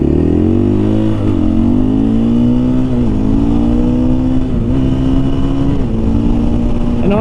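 A 2023 KTM 500 EXC-F dirt bike engine riding down a road, a loud, close, continuous drone that climbs in pitch through several gear changes.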